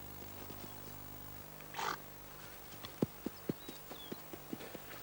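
A stallion among his mares in a stable setting gives a brief snort, then a series of soft, evenly spaced hoof clops follows as he walks, faint and fairly distant against a quiet background.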